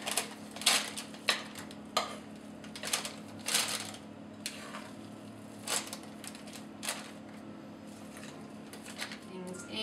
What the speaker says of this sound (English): we're just going to fill the loaf pan like so